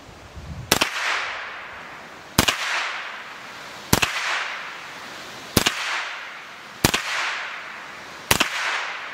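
A suppressed CZ Scorpion Evo 3 S1 fires six sharp single shots at steady intervals of about a second and a half, each crack followed by a brief echoing tail.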